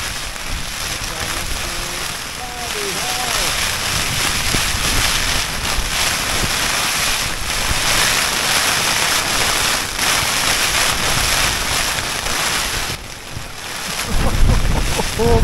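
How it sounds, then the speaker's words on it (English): Storm wind batters tents on a wild camp at Margery Stones, with a loud, steady broadband roar and gusty buffeting across the whole stretch, briefly easing near the end before surging again. "we've got a proper storm going on here."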